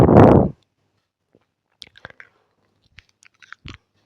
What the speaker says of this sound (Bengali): এখন সেই মশলাটা দিয়ে আর সর্ষের তেল নুন হলুদ দিয়ে আমি শাপলাটাকে খুব ভালো করে মেখে নেব